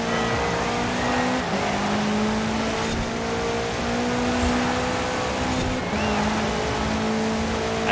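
Race car engine in Forza Horizon 4, set in a winter season, holds a steady high-revving drone at full speed, with pitch dipping briefly as it brakes and shifts, then climbing again, loud and continuous throughout.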